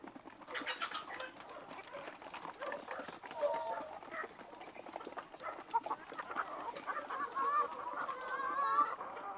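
Rhode Island Red chickens cluck and chatter in a nursery pen on a poultry farm, a busy overlapping flock sound of steady moderate loudness with no one talking.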